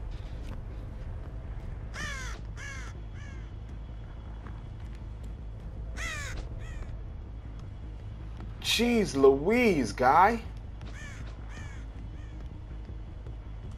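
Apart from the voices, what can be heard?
crows cawing in the video game Dead by Daylight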